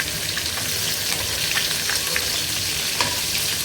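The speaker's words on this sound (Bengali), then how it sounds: "আর এই যে মাছ ভাজছি কিছু" Fish fries in a pan with a steady, close sizzle and occasional crackles and spits, with no talk over it.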